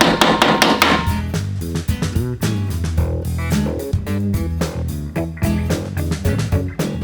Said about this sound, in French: Ça, c'est du bon marteau, ça.